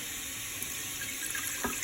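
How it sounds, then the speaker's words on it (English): Water runs steadily into the bottom of an Instant Pot pressure cooker, a soft continuous rushing with a faint splash near the end. "I'm gonna put about 2 cups of water in the bottom,"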